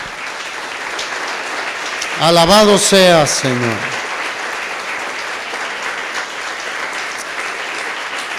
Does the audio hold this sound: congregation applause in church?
yes